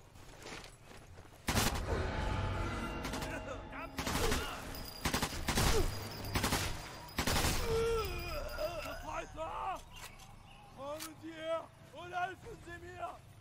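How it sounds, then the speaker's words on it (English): Machine gun fire in Sniper Elite 4 comes in several loud bursts over the first seven seconds, each burst broadband. Talk follows, running on steadily to the end. "Right, switch back to the machine gun"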